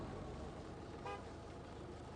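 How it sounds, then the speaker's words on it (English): A short car horn toot sounds once in Gas Station Simulator, faint and alone against a steady background hum. "Don't you honk at me."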